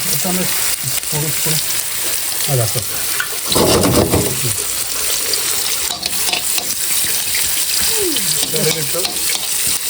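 Mustard seeds spluttering and crackling in hot oil as a Malappuram-style catfish curry is started in Thailand, a loud, dense sizzle with sharp pops and a burst of stirring scrapes, while people talk over it.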